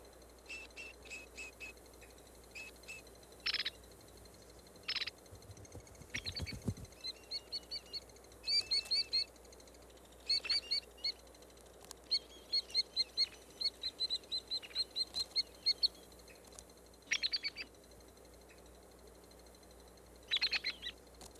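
White-headed woodpecker calls ring out in the California outdoors as repeated sharp, high chirping bursts and short rattled series, separated by pauses over a quiet background, with a brief low thump near the start.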